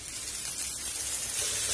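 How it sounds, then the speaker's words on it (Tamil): Chopped tomato and onion fry together in a pan for an egg podimas, giving off a brief, soft, steady sizzling hiss with no voices over it. "தக்காளியும் வெங்காயத்தோட சேர்த்து வதக்கி விட்டுருங்க."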